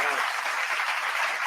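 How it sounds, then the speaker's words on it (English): Applause from a livestream audience fills the whole moment, a steady dense patter of clapping without pauses, close and fairly loud. "Let's give her a round of applause"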